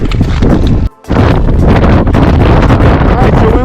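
Wind roars across the winter summit of Mount Jackson in New Hampshire as a loud, constant buffeting rush against the microphone, with a brief drop near the one-second mark before the gusts resume.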